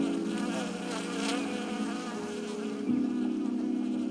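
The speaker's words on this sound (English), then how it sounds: "Abdullah, an 80-year-old beekeeper, is surrounded by hundreds of bees." Hundreds of bees swarm around an elderly beekeeper at the hive, a dense, steady buzzing drone that swells slightly and stays close and loud throughout.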